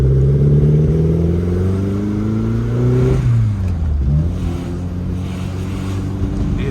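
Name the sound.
Lotus Elan engine misfiring with rev limiter set low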